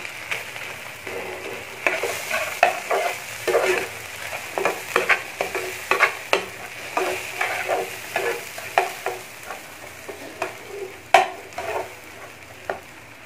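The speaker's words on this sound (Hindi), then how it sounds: "आपके सामने हमारा मगज़ फ्राई हो रहा है।" Goat brain (maghaz) frying in a pan while being stirred, with a steady background sizzle broken by repeated scraping strokes of a spoon, close and fairly loud throughout with no talking.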